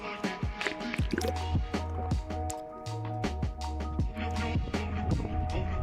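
Clean motor oil pours and drips during an oil change on a 2014 Ford Focus ST, irregular close liquid splashes and glugs at a modest level, with no talking.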